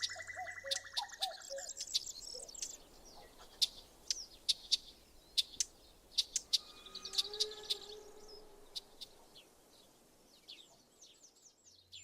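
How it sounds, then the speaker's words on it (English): Lesser whitethroat and red-backed shrike scolding from scrub tops in an old English hay meadow, sharp repeated chattering calls in irregular bursts over a soft, steady background hiss of insects and other birds. "a lesser whitethroat and redback shrike, who bounce around the tops of the scrub, scolding in fear of having their nests discovered"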